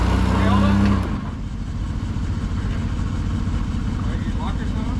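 A truck engine revs under throttle while pulling a trailer during a difficult recovery pull, a steady loud mid-low rumble that surges briefly at the start and then holds, with voices talking over it.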